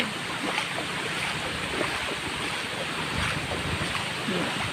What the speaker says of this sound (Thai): อันนี้น้ำล้นถนนออกไปแล้วค่ะ